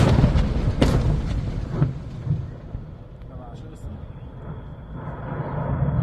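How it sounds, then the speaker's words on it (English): Secondary explosions at a Hezbollah munitions depot: dull, distant booms and rumbling blasts, a few sharper cracks early on, rolling into a low continuous rumble. "What you're hearing is the secondary and tertiary explosions of a Hezbollah munitions depot"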